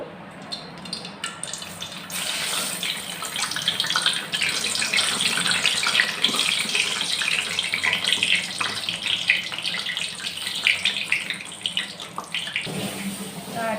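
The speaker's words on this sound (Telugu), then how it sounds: "గారెలు ఇలా వేసుకుందామండి వేసుకుని వేపుకుందాం" Garelu, rice-flour and palm fruit fritters, sizzle and crackle in hot oil with a steady broadband hiss throughout, close and continuous, without talk.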